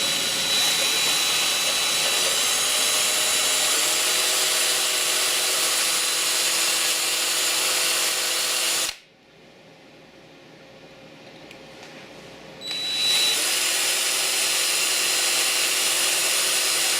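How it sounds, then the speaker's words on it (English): A power drill runs in reverse to back out a hard bolt on a Famco 50A punch press, grinding steadily and loudly, cutting out for a few seconds of near silence, then starting up again. "Of course, you got to put the drill in reverse."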